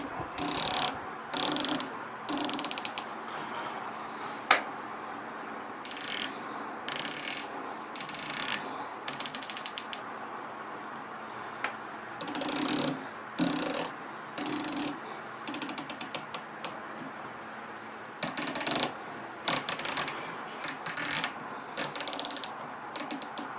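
Knobs on a Bushnell AR rifle scope turned through a box test, producing bursts of crisp, rapid ratcheting clicks separated by short pauses, close and clear with no talking.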